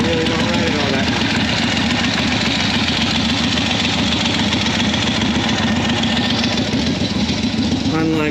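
Harley-Davidson Sportster motorcycle engine running at a steady loud idle in a garage, a continuous low rumble throughout, with someone talking over it.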